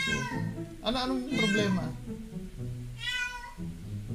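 A pet cat meows several times, with two drawn-out cries close together and another a moment later, close and clear, while a person speaks nearby.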